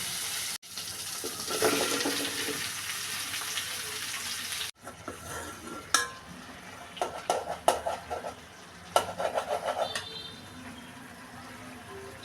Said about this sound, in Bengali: ফোড়ন ভেজে নিচ্ছি।